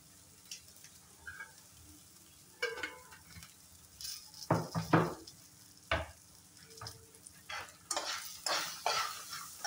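Garlic, peanuts and cashews fry in a pan for chutney, giving bursts of close sizzling and scraping stirring strokes that grow busier toward the end, with no talk.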